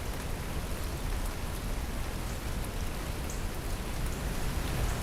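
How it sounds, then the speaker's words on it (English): Rain falls on a chicken coop after a night and day of wet weather, an even, unbroken hiss of drops on the surface, steady and fairly soft throughout. "Been raining all night and all day."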